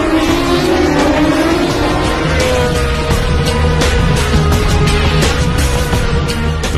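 An AMG 5.5-litre V8 biturbo M157 engine runs on a test bench, giving a loud, close, continuous roar with a steady rumbling tone and mechanical whine, and no voices.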